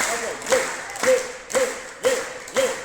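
Schoolchildren at Vedvati Devi Vidya Mandir in Habibpur, Khurja, clap in unison using four fingers and thumb: five sharp, evenly spaced group claps about half a second apart, with a voice sounding along with each clap.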